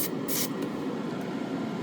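Spray paint hisses from a gun inside a spray booth with a strong extraction fan, giving a steady broad airy roar with a brief brighter burst of spray near the start.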